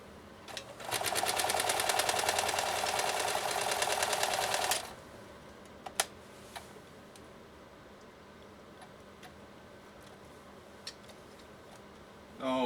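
A Riccar 2925 home sewing machine stitches in a fast, steady run of needle clatter for about four seconds, then stops. A few faint isolated clicks follow in a quiet room.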